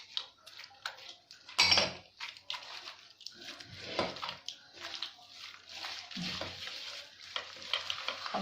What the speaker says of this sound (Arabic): دوكا نزيدو لها هاد لي زو، حبه تاع البيض، نزيدو نخدموها معاها.